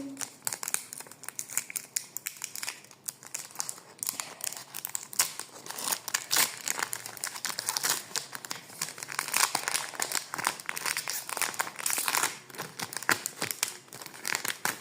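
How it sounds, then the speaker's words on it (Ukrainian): Foil wrapping on a collectible trading card packet crinkles and tears as it is opened, a dense, continuous crackling and rustling up close with no talk over it. "Так, відкриваємо третю карточку."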